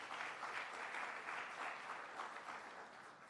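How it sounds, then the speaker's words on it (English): An audience at a Cherokee speaker summit applauds, producing steady, dense clapping that stays fairly even and moderately quiet for a few seconds. "Let's give him a round of applause."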